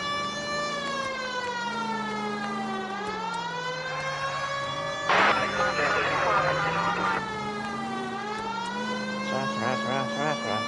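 A police car siren wails in the video game L.A. Noire, rising and falling steadily and loudly for the whole stretch, with a brief burst of rougher noise mixed in midway.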